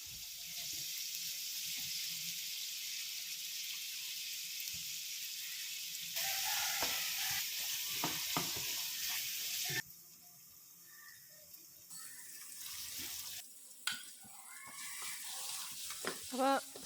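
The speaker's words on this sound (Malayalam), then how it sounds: "ഉപ്പ് ഇട്ടിട്ടൊന്ന് വഴറ്റിയെടുക്കുക" Onions sautéed with salt in a pan give a steady close sizzle that changes in level partway through, overlaid by scraping stirs, with watery splashing and hissing bursts later on.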